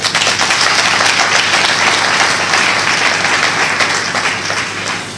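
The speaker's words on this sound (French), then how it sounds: "Je vous prie de l'applaudir." Audience at an evening of eloquence in a grand hotel hall applauds a host, dense sustained clapping filling the room at steady loudness without a break.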